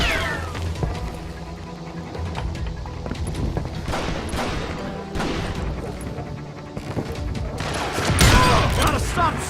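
Scattered gunshots ring out in a western town street in Call of Juarez Gunslinger, sharp cracks at irregular intervals over a busy game soundtrack, growing denser and louder near the end.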